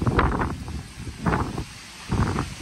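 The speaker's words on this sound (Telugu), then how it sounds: "గాలి తెగ వేస్తుంది" Strong gusting wind sweeps through backyard garden plants, including okra, during a rainstorm, rising and falling in loud, rushing surges close to the microphone with buffeting noise and no talk.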